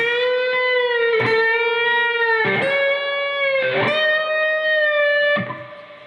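Parts one and two of a song played at full speed on electric guitar, sustained overdriven notes broken by short percussive strums at a steady rhythm, close and loud, with no voices.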